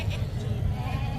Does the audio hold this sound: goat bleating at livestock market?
yes